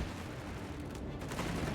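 Dense, steady gunfire crackles through a battlefield in the strategy game Company of Heroes 3, a continuous fusillade consistent with an enemy heavy machine gun, loud and unbroken across the short stretch.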